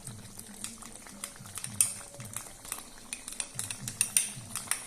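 A spoon stirs mushroom curry with fresh cream and kasuri methi in a kadai, giving soft irregular scrapes and clinks against the pan over a low simmering bubble, close and fairly quiet with no talking.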